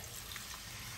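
Water runs steadily into a pan of thawed shredded chicken seasoned with taco seasoning, a continuous close pouring hiss with no talk.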